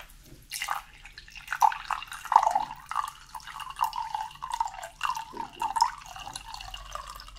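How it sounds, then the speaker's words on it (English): Tea is poured, a close, quiet trickle of liquid with irregular splashing drips that rise and fall for several seconds, alone without speech. "Now let me pour your tea."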